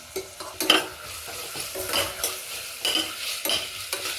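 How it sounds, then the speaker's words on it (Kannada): Homemade ginger garlic paste with green chilli sizzles in oil in a pan for fenugreek-leaf pulao, overlaid by frequent spoon scrapes and stirring clinks, close and without speech. "ಒಂದು ಎರಡು ನಿಮಿಷ ಫ್ರೈ ಆಗಬೇಕಷ್ಟೆ"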